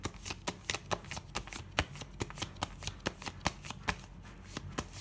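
Tarot cards are shuffled by hand in a steady run of crisp, rapid riffles and taps. The sound is close and fairly quiet, with no voices.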